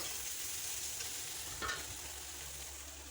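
Spices with chili, turmeric and salt fry in hot oil in a pan, a steady close sizzle with a brief scrape of stirring midway and no talk.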